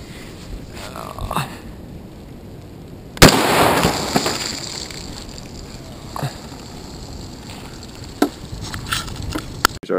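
An M1 carbine fires a single .30 carbine round, a Speer Gold Dot 110-grain soft point, at water jugs from 15 feet on a cold day outdoors, giving one sharp loud crack followed by a decaying echo, with a few faint clicks and knocks around it.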